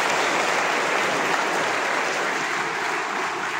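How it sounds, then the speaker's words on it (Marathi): Loud, steady applause from an audience honoring photographers at a Junnar wildlife trekking photo exhibition event, continuous dense clapping throughout with no pauses. "त्यांच्यासाठी आपण जोरदार टाळ्या वाजवूया."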